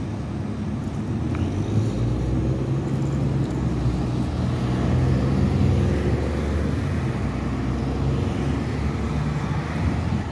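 A bus rolls past along a road, giving a steady, loud low engine rumble and road noise that lasts throughout with no talking.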